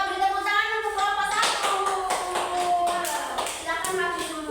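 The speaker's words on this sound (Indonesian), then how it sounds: "Kita beri tepuk tangan untuk kelompok" A classroom of students claps in short bursts for a student group during a teaching session. The clapping is light and quick and is mixed with voices and children singing or chanting.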